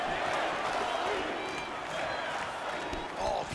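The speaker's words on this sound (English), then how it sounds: "You hear this crowd just eating out of his hand, oohing and on every time he advances." Crowd noise from EA Sports UFC 4 during an Israel Adesanya versus Paulo Costa fight, a steady roar of arena crowd swelling with oohs, heard under continuous commentary.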